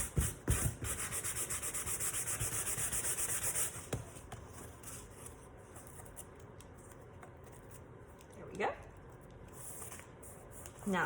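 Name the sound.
sanding paper edges with a sanding sponge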